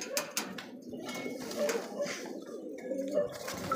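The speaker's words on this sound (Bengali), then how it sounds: "আপনি দেখছেন এক্সিবিশন কাওয়া কবুতর দেখেন।" Exhibition pigeons coo softly among a flock, low rolling calls repeating over steady background bustle, with faint voices nearby.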